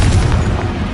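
Confringo explosive spell going off in Hogwarts Legacy: a short, loud, booming blast with a deep low-end thump and a brief rumbling tail.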